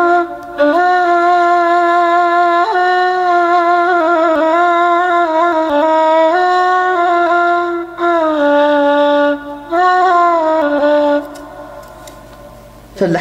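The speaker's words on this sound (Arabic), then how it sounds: "في الناي برضو نفس النظام اهو، هذا الناي" A ney flute plays a sustained, breathy melody with clear wavering tones and short pauses between phrases, close and alone with no talking over it.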